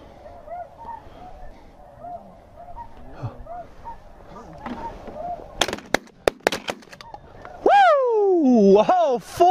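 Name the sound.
shotgun shots at snow geese while hunting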